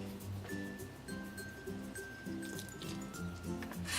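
An airless pump bottle holding soap and water is shaken, giving soft, wet sloshing and squishing in a rough rhythm, quiet and close, with a faint background tone.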